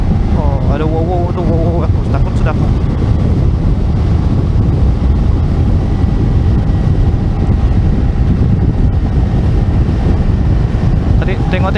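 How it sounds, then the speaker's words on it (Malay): Strong wind roars on Mount Kinabalu, buffeting the microphone continuously, with brief voices talking early in the stretch and again near the end. "Tapi yang angin kuat tu, angin kuat."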